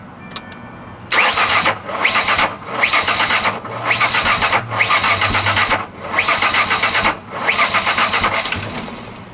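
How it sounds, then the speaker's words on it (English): Engine cranking on a 2001 Ford Ranger with no crankshaft position signal: the starter churns in six long rhythmic bursts of whirring with brief pauses between, loud and close, with no start. "Yeah, and you can see the cranking."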